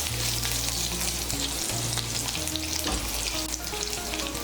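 Crushed garlic cloves fry in hot oil in a pan, giving a steady, close sizzle with crackling spatter. Faint scraping of stirring can be heard now and then, with no talk.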